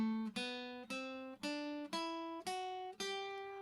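A guitar plays a major scale upward on the second string, seven clear plucked notes rising one after another at an even pace, each ringing and decaying before the next, close and alone.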